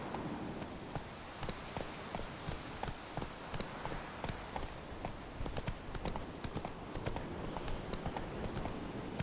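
Hooves of Geralt's horse Roach in The Witcher 3 Enhanced Edition, a quick, even clip-clop of galloping beats running steadily throughout, soft and slightly distant with faint rain-like ambience.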